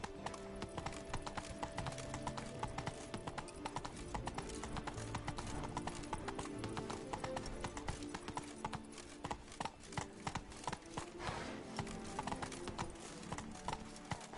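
Roach the horse gallops in a video game, rapid rhythmic hoofbeats drumming steadily and loudly over layered game music, with no one speaking.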